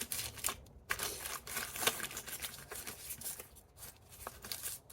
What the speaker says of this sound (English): Crinkle it down here.